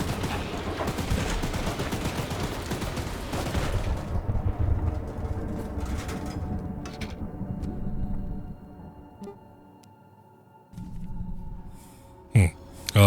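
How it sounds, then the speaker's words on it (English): Video game weapon gunfire from the Choo Choo Charles trailer comes as dense rapid bursts for about four seconds, then the sound thins to a quieter hum with a few sharp, loud hits near the end. "There's the weapon overheating."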